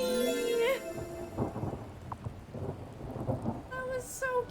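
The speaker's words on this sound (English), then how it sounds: "And of course it had to happen when there's an actual thunderstorm." Thunderstorm with rain in the video game Wylde Flowers: steady rain patter with rumbling thunder rolls, mixed under game music with melodic chimes and tonal effects, no talking.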